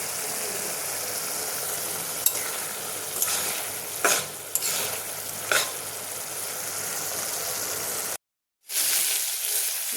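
Fish fries in a pan with a dense, steady crackling sizzle and a few louder pops, up close, breaking off into a brief silence near the end before resuming.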